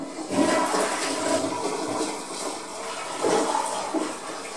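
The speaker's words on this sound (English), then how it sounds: "I flush." A toilet flushes during bathroom cleaning, a loud rushing gurgle of water that surges, swirls and drains away, then surges again near the end as the tank refills.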